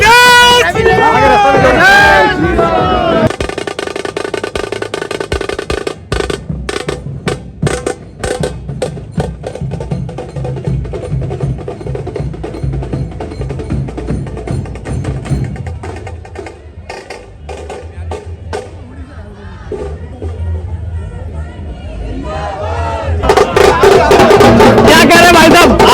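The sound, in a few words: rally crowd hubbub at Ravindra Negi's nomination in Delhi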